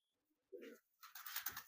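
A pigeon of a prized flying breed gives a short, soft coo, then a fuller burst of cooing close by in a quiet setting.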